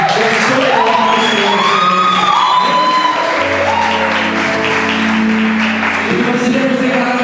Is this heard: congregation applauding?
yes